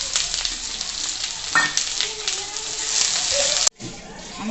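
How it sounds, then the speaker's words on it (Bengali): Chopped onions and cinnamon frying in hot oil for a goat meat curry give a loud, continuous sizzle with stirring scrapes, close up, before a brief cut and a quieter sizzle. "তেল দিলাম, একটু দারচিনি দিলাম, দুটো পেঁয়াজ কুচানো আছে, দুটো পেঁয়াজ দিয়ে রান্না করছি।"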